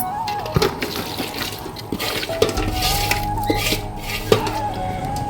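Avial vegetables being stirred with coconut oil, salt and turmeric, giving scraping, clinking pan and utensil sounds with wet, squishy movements, steady and close, with no one talking.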